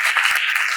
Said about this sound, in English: I'm sure this requires a clap from all of you